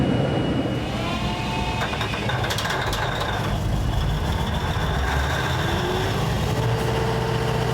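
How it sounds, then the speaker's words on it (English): Temporary power plant generators run at a freshly cleared site in the Bahamas, a steady, loud, continuous engine drone with a low hum and no speech. "Officials say the generators are pretty much ready to go after they finished preparing the site."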